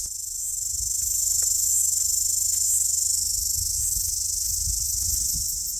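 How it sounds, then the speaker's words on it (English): Cicadas chirping in a New Zealand summer at Blue Duck Station near Ruapehu, a dense continuous high-pitched buzzing drone that stays steady and loud throughout, with faint low rustles and light knocks underneath. "Listen to that. You hear the cicadas?"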